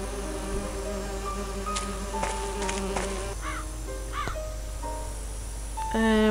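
Bees buzzing around a hive in the survival video game And Then There Were None, a steady insect drone with several swelling passes beneath game music tones, continuous across the scene.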